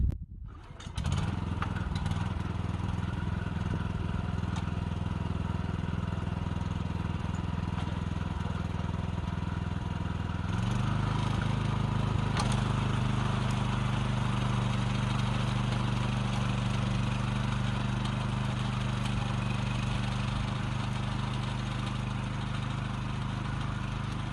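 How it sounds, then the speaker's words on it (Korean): A small pull-started engine on a farm machine for planting yam catches after a brief rattle and settles into a loud, steady running drone, its pitch shifting once midway and then holding constant close by. "시동을 걸겠습니다."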